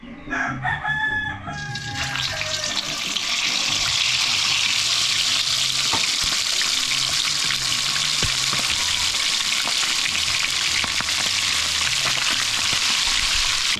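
Loud, steady sizzling of tomato-paste-coated chicken frying in hot oil, crackling continuously after a brief clatter at the start.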